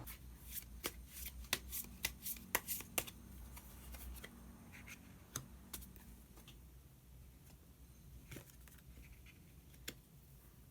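Tarot cards being handled and drawn from a deck: a quiet run of soft papery flicks and sharp little snaps, scattered irregularly over low room hum, with no talking.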